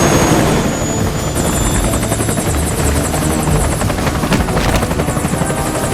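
An MI-24A helicopter in the video game Metal Gear Solid: Peace Walker, its rotor thumping loud and close in a continuous rapid chop over a whining engine drone.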